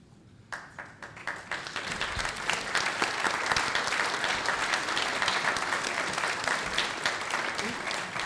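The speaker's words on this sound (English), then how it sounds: "I'm glad you applauded" A town hall audience applauds committee members, clapping starting scattered and quickly swelling into steady, sustained applause that fills the room, with a few voices mixed in.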